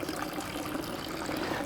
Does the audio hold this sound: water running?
yes